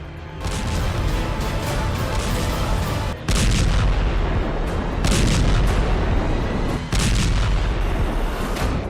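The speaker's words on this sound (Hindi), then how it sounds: "लेबनान की राजधानी बेरूत धमाकों से दहल गया" Explosions from strikes on Beirut, Lebanon, heard as a sustained, loud, dense roar of blasts and rumbling with several sharp breaks and renewed surges.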